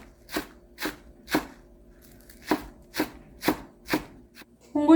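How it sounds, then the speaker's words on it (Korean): A knife finely chops the green tops of scallions on a cutting board, giving about nine crisp, evenly spaced knocks, close and clear, with no voices. "좀 얇게 다져주세요"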